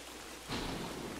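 Steady rain from the video game Don't Starve: Hamlet hisses in a close wash that swells suddenly partway through, with a low rumble of thunder underneath.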